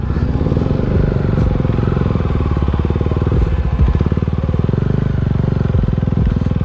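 Motorcycle engines idling near Minabulso Falls in General Nakar, Quezon Province: a loud, close, steady rapid-pulse rumble that runs throughout without pause.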